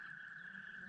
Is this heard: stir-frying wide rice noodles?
no